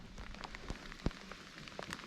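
Cold winter rain falls during a bass fishing outing, a faint, steady patter with scattered soft ticks and one sharper drip.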